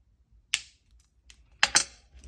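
Jewelry wire being snipped for wire-wrapped pieces: a sharp click of the cutters, then after a pause a double snip in quick succession, close and crisp against near silence.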